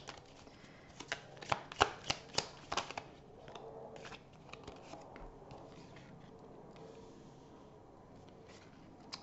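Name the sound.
tarot cards being shuffled and falling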